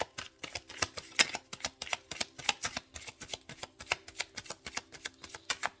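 Tarot cards drawn and shuffled from a deck, giving a rapid run of crisp papery slaps and flicks at close range with no talking.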